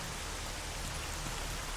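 Steady rain pours down in S.T.A.L.K.E.R. Anomaly, a dense, even hiss of falling water without a break, fairly loud and close.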